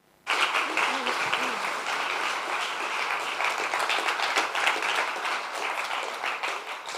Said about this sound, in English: just another huge round of applause for our innovators today